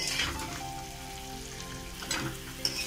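Potatoes frying in oil with salt and turmeric sizzle in a continuous close hiss, with faint crackling and a couple of small spatters toward the end.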